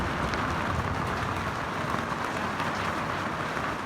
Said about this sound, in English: It's raining ice